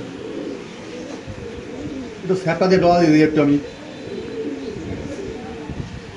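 A pigeon held in the hand coos in a short low burst near the middle, close by, while someone talks over it.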